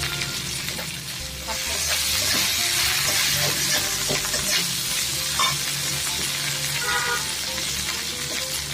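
Ground turmeric, chilli powder and other spices fry in hot oil in a pan for a vegetable curry, giving a steady, close sizzle with scraping stirs throughout.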